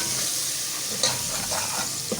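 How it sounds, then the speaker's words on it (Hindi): Spices with turmeric and salt sautéing in a hot pan, a steady close sizzle with soft stirring scrapes throughout, no voices. "अब इसकी भुनाई करेंगे हम अच्छे से।"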